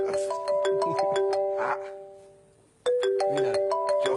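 A telephone ringtone plays a repeating bright melodic chime pattern in two bursts separated by a short fading pause. It is moderately loud and close, with faint voices in the background.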